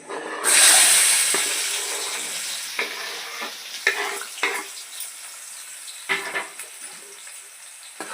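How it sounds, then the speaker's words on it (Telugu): Onions and green chilies dropped into hot oil for a Godavari fish curry burst into a loud sizzle that gradually eases to a steady fry, broken by scattered stirring scrapes and clacks against the pan. "ఉల్లిపాయలు బాగా ఫ్రై అవ్వాలి"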